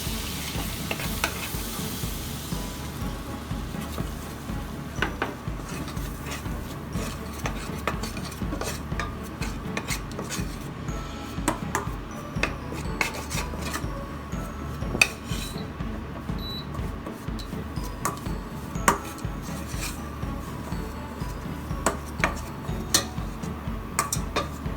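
Flour and butter for béchamel sauce are stirred in a hot pan, giving continuous close scraping and clinking of utensil against metal over a steady frying sizzle, with no talking.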